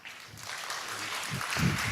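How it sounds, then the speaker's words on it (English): An audience at a GovTech leadership conference breaks into applause, the clapping starting softly and building to a fuller, louder round by the end. "So a round of applause for Greta."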